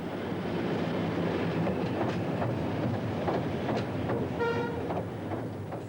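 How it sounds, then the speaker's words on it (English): Two diesel test locomotives rumble slowly across the Norwich Trowse swing bridge, with a steady engine drone, faint rhythmic wheel clatter and a short horn toot near the end, heard from a moderate distance. "Back come the test engines."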